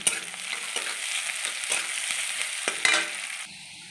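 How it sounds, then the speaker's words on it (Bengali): Onions with a pinch of sugar fry in hot oil in a kadai already used for fritters. A steady, close sizzle is broken by a few scraping stirs, and it quietens slightly near the end. "পেঁয়াজগুলো আমার হালকা লাল ভাজা হয়ে গেছে"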